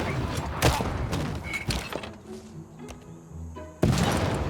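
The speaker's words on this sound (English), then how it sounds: "Okay, that's our third cannon shot right there." Cannon fire from a field cannon unit in the strategy game Civilization VI, with several loud booming impacts at the start and a sharp blast near the end, separated by quieter battle ambience.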